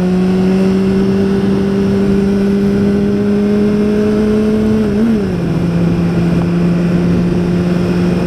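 A BMW S1000RR motorcycle at high speed, a loud, steady engine drone with a slight dip in pitch midway as it passes, heavy wind rush throughout and no voices.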